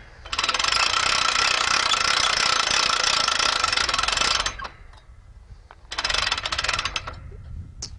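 Boar Buster hog trap mechanism being coiled back up after the trap has dropped to the ground: a loud, steady mechanical ratcheting whir lasting about four seconds, then a short second burst after a pause.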